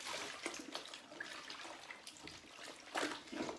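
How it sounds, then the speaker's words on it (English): Cashmere garment moved and swished through wash water by hand, giving soft, close sloshing and splashing with a few louder surges, alone without talk. "Let the water swish through."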